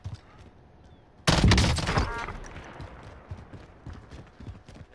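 Video game gunfire from a burst rifle erupts suddenly as a loud, dense volley of rapid shots, then tapers into scattered, softer pops and rattling echoes.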